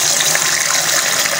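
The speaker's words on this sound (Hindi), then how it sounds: "यहाँ पे मैंने पानी थोड़ा सा डाल दिया चावलों में" Water poured into a pot of rice for washing, heard as a brief, steady splashing gush close by with no talk over it.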